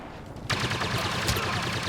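Blaster gunfire in the multiplayer game Star Wars Battlefront on PS4, a sudden loud burst of rapid shots after a quieter lead-in, continuing densely with a heavier thump partway through.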